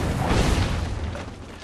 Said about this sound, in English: So I guess I'm just going to use one of these grenades.